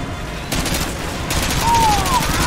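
Gunfire from the video game Call of Duty: Modern Warfare 2, a dense rattle of rapid shots heard at a moderate level with game background noise behind it.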